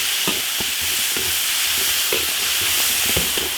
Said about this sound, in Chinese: 起锅烧油，炒调料，生姜泡椒，